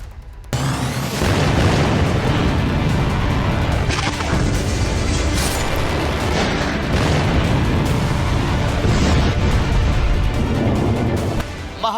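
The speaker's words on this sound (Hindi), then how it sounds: "ईरान ने आज तेल अवीव पर 10 मिसाइलों से हमला कर दिया।" Booming blasts from an Iranian attack of about ten missiles on Tel Aviv, heavy rumbling impacts running almost continuously and loud, with crashing debris-like bursts layered through.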